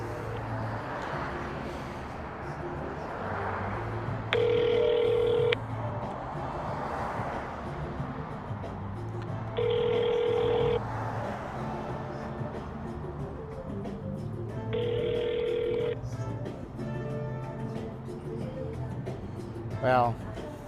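Outgoing telephone call ringing, three evenly spaced electronic ring tones over steady background noise and a speaking voice.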